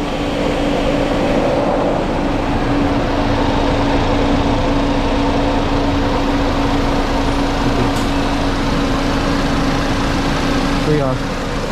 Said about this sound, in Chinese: 听着发动机的声音就知道 OK 的